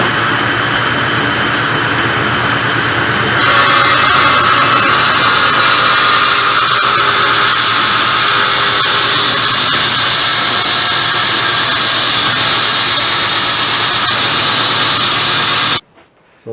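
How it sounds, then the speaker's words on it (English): Table saw trimming a wood blank for a banjo neck, a loud continuous roaring whine and hiss that swells and brightens after a few seconds as the cut begins, steady for about twelve seconds, then cuts off abruptly. "I trim it off by running it through my table saw and getting a nice flat surface."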